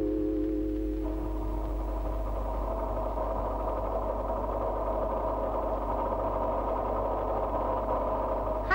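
A small scooter engine idles steadily with a low, even hum, and a brief sharp noise comes at the very end.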